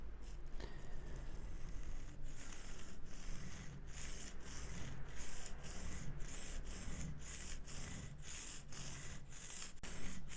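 A woodworking gouge is rubbed back and forth on a rough 300 grit sharpening stone, producing rhythmic gritty scraping strokes, close and repeated, with no speech.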